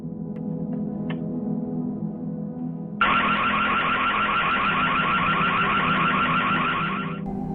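A security alarm bursts on abruptly partway through, a loud, sustained, piercing electronic siren warbling steadily over a low background hum until it cuts off near the end.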